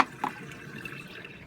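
Jebao CP-40 aquarium wavemaker pump running at speed 5 in a tank, giving a soft continuous wash of moving water with a couple of faint splashy drips, close and steady.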